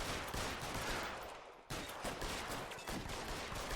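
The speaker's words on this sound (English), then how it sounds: "Roy just shot the shit out of him" Rapid bursts of gunfire in the 1940s Los Angeles police game L.A. Noire, a shooter pumping round after round into a man, dense and continuous with no talk over it.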